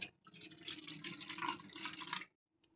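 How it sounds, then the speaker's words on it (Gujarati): Half a glass of water pours into a large pot in a home kitchen while making methi na gota, a steady splashing stream for about two seconds, quiet and close, then it stops. "હવે આપણે એક મોટા વાસણમાં અડધો ગ્લાસ પાણી એડ કરીશું"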